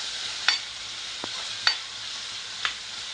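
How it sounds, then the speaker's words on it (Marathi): Cowpea curry with crushed garlic being stirred in a pan: a steady, loud sizzle with three distinct spoon scrapes spaced about a second apart, no voices. "व्यवस्थित मिक्स करून घ्यायचं आपल्याला"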